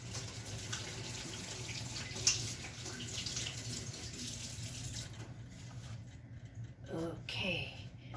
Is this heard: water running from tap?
yes